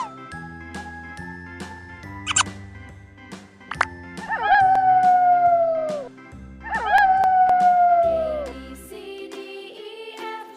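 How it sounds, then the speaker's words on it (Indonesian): Wolf howls sound twice as long sliding, falling tones over a busy backdrop of bright jingles and soft tones, each howl lasting about two seconds. "Wolf, serigala."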